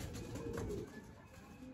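Homing pigeons coo softly in a loft, a low, throaty warble repeating under quiet background noise.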